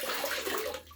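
Water from a running tap splashes steadily for a moment as a razor is rinsed during a shave, close and fairly quiet.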